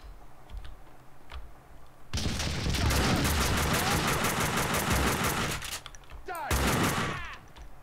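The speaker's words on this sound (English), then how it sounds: "Had some bullets flying right past our ear." Gunfire in the video game Max Payne 2 comes as sustained heavy bursts of automatic shots for several seconds, loud and dense, then a short pause before another burst, with some faint clicks before it starts.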